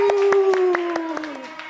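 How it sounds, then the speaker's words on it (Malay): Children in an online class clap for a classmate, a steady rhythmic string of sharp claps under a sustained voice tone. "Tepukan untuk di sini."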